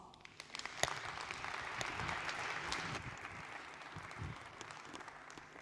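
Audience applause in a main hall at a sustainability forum, a steady wash of clapping that is moderately loud and continuous for several seconds, with no speech over it.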